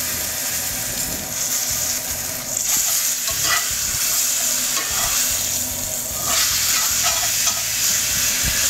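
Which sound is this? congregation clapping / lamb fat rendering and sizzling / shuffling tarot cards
lamb fat rendering and sizzling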